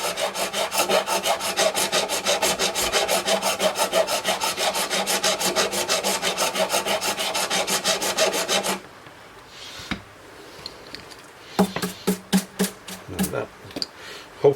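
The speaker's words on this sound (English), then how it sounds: "Now just for looks, I'm going to bevel this edge a bit." Rhythmic rasping strokes on the wooden edge of an Epiphone J-200EC electro-acoustic guitar with a spruce top, being bevelled. The strokes run steadily and close for about nine seconds, then give way to scattered, separate scrapes and taps.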